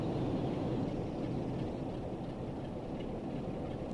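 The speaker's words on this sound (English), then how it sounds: "Got that 47, lovely locomotives." Class 47 diesel locomotive running on a Blackpool branch line in Train Sim World 4, a steady dense rumble and rolling noise that holds evenly throughout without speech.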